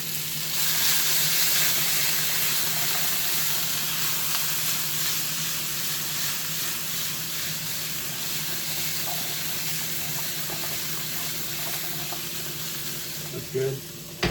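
Butter sizzles in a pan on the stove while brunch eggs are prepared, a steady, close hiss running throughout with a low hum beneath and a few soft knocks near the end.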